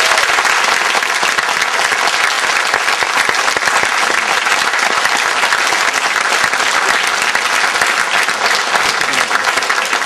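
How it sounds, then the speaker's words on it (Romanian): Theatre audience at the Jean Bart Theatre in Tulcea giving loud, sustained applause to folk artists, a thick, unbroken roar of clapping with no pauses. "vă rog frumos să-i aplaudăm încă o dată."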